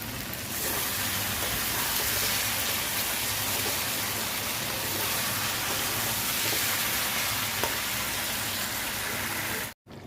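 Chicken curry masala with sweet yogurt frying in a pan, a constant loud hiss and sizzle throughout that cuts off abruptly near the end.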